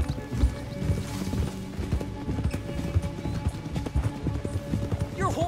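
Hooves of a horse in the video game Red Dead Redemption 2 clatter quickly and heavily in a galloping rhythm, close and continuous, with a brief high whinny near the end.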